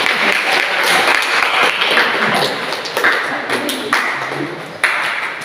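Applause from a classroom audience after a student group presentation, moderately loud clapping with a few sharper taps and thumps, easing slightly toward the end.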